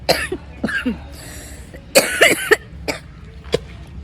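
A person with a cold coughs several times in short, harsh bursts, close and fairly loud, with brief pauses between fits.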